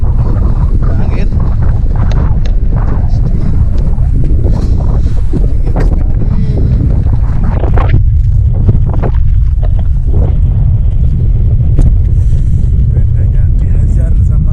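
Strong storm wind roars steadily across the microphone on Mount Gede in the early morning, a loud, continuous buffeting rumble with gusts throughout and no speech.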